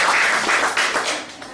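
Church congregation clapping for Jesus at a GBI Rhema Illahi anniversary service, a steady wash of many hands clapping at moderate loudness without speech.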